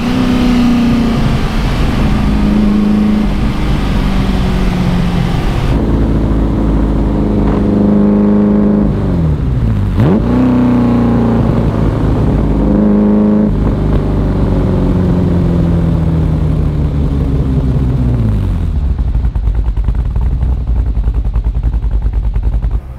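A supercar engine warming up with its oil cooler running: a loud, steady idle broken by several rising and falling revs, close by and continuous, with no talking.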